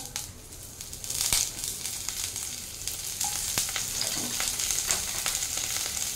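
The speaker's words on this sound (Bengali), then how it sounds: "তেলটা আমার গরম হয়ে গেছে, আমি করলাটা দিয়ে দিচ্ছি কড়াইতে।" Bitter gourd sizzles steadily in hot oil in a wok, a dense, continuous crackling fry with scattered sharper pops throughout, fairly close and without talk.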